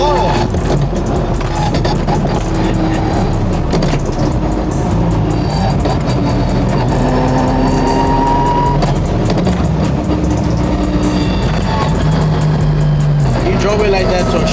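A 1500-horsepower Toyota Supra driven on the freeway, its engine and gearbox rumbling continuously up close with shifting tones and occasional whines, while people talk over the noise.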